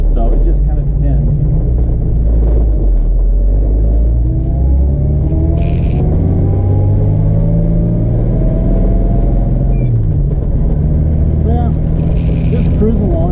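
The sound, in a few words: old station wagon car driving along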